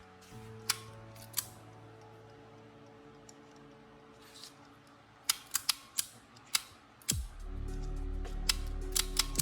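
A faulty Vetus bow thruster solenoid contactor on a 1988 Hatteras 65C yacht clicks weakly. Sharp, scattered clicks sound close by, then the thruster motor engages with a low, sustained hum, with more clicks on top.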